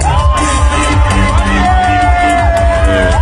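A large audience at the Metro FM music awards cheers and whoops loudly and continuously, a dense close roar of voices with shrill shouts rising above it.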